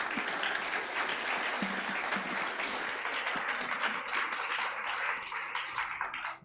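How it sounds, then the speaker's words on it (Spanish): An auditorium audience applauds during a talk on education, a dense, sustained clapping from many hands that fills the hall and fades slightly toward the end. "yo creo que este auditorio se merece un aplauso."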